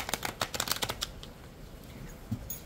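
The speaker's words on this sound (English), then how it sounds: "it definitely affects the shape of your cards when you start to shuffle" A new Artist Decoded tarot deck is shuffled by hand, producing a rapid, close run of crisp riffling card flicks that fades into quieter handling and soft rustles.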